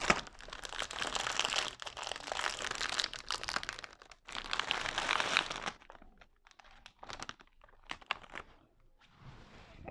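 Hazelnut-cream-filled imported cookie packaging being torn open, with loud close crinkling and crunching of plastic wrapper for several seconds, then sparser rustles and a final crinkle.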